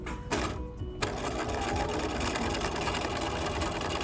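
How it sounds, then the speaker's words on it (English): Sewing machine running steadily while edge stitching the keyhole back opening of a blouse, a continuous rapid mechanical whirring and needle clatter, close and loud, with a brief pause near the start. "I'm edge stitching until I get to the end of this point"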